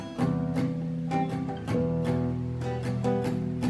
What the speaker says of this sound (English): where you're playing that exact progression, but it's palm muted